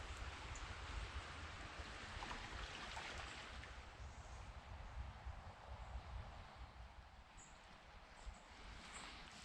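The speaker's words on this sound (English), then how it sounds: "I can hear the river just literally" A steady, faint wash of flowing river water runs continuously from nearby trees beside a canal feeder, mixed with light wind noise and no talking.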